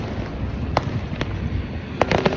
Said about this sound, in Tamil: வெடிக்க ஆரம்பிச்சிட்டாங்க எல்லோரும்.